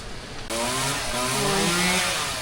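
A petrol chainsaw cuts palm trees at an evening market in Thailand, its engine revving up with a loud, steady whining buzz that rises in pitch and sounds close by.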